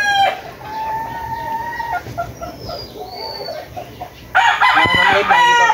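Backyard chickens, some sick, cluck close by while a rooster crows loudly near the end, with more sharp crowing and fowl calls layered over the flock.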